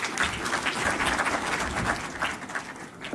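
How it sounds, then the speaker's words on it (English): Dense audience applause at a stock exchange market launch, a full, continuous crowd clapping that holds at a steady level before easing slightly at the close. "you can clap harder"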